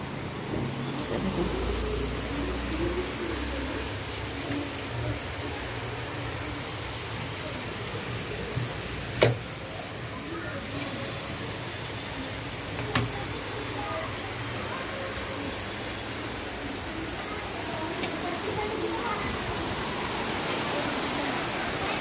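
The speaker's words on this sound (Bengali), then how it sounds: "সুন্দর একটা বৃষ্টি হচ্ছে বাহিরে" Rain falls outside a home as a steady, soft hiss that lasts the whole stretch, with a couple of faint brief knocks near the middle.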